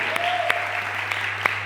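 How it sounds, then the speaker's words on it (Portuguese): A church congregation applauds during an evening service, a steady bed of clapping with a few sharper claps standing out, held over a constant low hum. "Vamos aplaudir a Jesus nessa noite."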